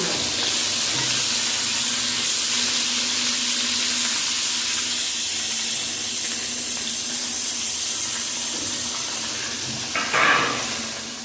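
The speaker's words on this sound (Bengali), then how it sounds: "তেল গরম হয়ে গেছে মাছ ভেজে নেবো" Live koi fish frying in hot oil in a home kitchen, a steady broadband sizzle and crackle running close and fairly loud throughout, with a brief louder spatter near the end.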